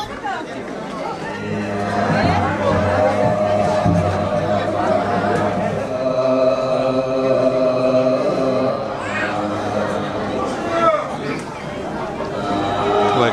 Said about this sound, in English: So the crowd are coming in now for the climax.